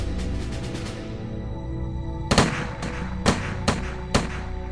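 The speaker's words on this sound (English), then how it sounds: "The first six men fire" A Revolutionary War firing squad of six men discharges muskets: several sharp, loud cracks land unevenly over about two seconds rather than in one burst, each standing out above a low, steady rumble.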